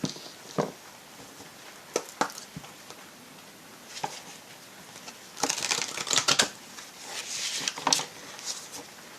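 Gaia oracle cards are handled and shuffled in a quiet room: scattered soft taps and clicks, then a denser flurry of riffling card noise in the middle and near the end.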